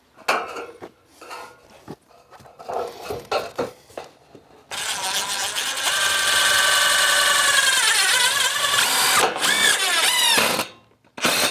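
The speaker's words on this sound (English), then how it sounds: "I'm going to attach this with the same long screws that we attached the panels with." A power drill drives long screws into steel angle flashing on an exterior siding corner: scattered clicks and handling knocks, then a loud sustained whirring drive with rising pitch, a brief stop and a final short burst.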